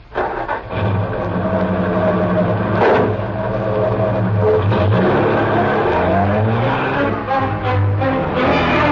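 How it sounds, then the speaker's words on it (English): A large sedan starts up and drives off in a radio drama, its mid-range engine turning over, then revving and pulling away loud and close, with no voices. "The car was a large sedan."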